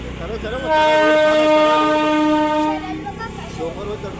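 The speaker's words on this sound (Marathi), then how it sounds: "ट्रेन आली आहे." A passing train sounds a long, loud horn for about two seconds over the rumble of rolling wagons, then quieter rail noise continues with voices nearby.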